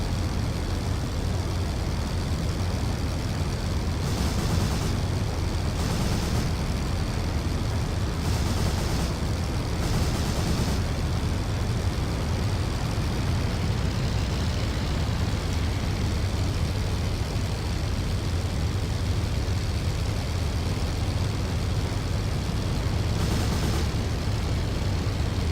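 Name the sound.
WWI aircraft machine gun fire in Rise of Flight video game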